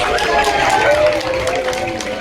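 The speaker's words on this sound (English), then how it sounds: "Can we give them one more big round of applause?" Crowd applause for marine mammal trainers at the Vancouver Aquarium, a steady, dense wash of clapping with voices mixed in throughout.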